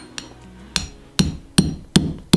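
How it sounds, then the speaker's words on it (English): Six sharp hammer taps punching a hole in a metal basket, spaced irregularly and growing louder, each a bright ringing strike, close by with no talking. "I'm just gonna tap it with a hammer."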